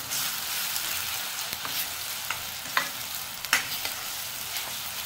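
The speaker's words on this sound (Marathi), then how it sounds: "आता ह्यामध्ये मी आलं लसूण पेस्ट घालते आणि चांगली परतून घ्यायचे कांद्यासोबत" Ginger garlic paste being sautéed with softened onion in hot oil for a soya and peas curry, a steady broadband sizzle with occasional sharper crackles and stirring scrapes, close and continuous with no talking.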